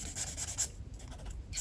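Fine-nib pen drawing on paper, a close, soft scratching and rubbing of strokes in short bursts across the sheet.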